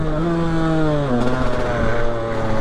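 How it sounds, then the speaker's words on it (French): A KTM 125 EXC two-stroke dirt bike engine revving, a loud, buzzy, close tone whose pitch dips and climbs again as the throttle changes, with no talking over it. "Dès que ça monte dans les tours, c'est incroyable, c'est hyper nerveux."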